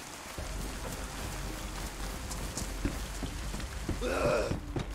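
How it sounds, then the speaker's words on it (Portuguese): Steady rain falls in the survival video game DayZ, a continuous hissing patter at moderate level throughout, with a brief brighter burst of sound near the end. "Não posso tomar essa chuva."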